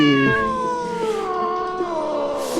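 A cat in a haunted house video game gives one long, loud, wavering meow that stretches and bends in pitch, heard up close with nothing else over it.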